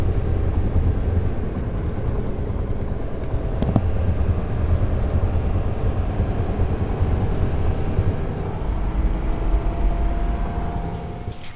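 A Dodge Ram 5500 truck hauling cars on a California highway out of Manteca, heard as a steady low road and engine drone from inside the cab, with a brief clunk partway through.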